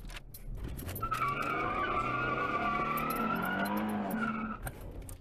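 Tires of a rollback tow truck squeal in a long, tonal skid lasting several seconds under a steady engine roar, loud and close, with no talking.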